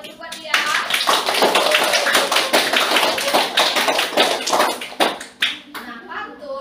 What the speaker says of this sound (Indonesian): Tepuk tangan dulu buat dia.